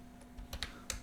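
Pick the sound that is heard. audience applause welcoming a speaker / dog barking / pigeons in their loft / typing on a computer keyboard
typing on a computer keyboard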